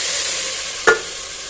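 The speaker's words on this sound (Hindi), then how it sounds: "हमें भगार कर रहे हैं।" Red chillies dropped into hot oil as a baghar for beef nihari: a steady sizzle with one brief louder crackling burst near the end, close and alone.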